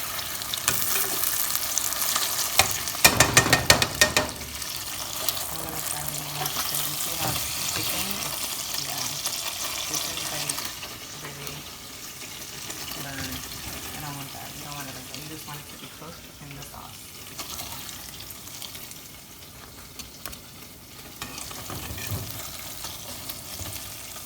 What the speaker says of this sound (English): I'm just gonna coat it in the soy sauce, in the oyster sauce, and then take it out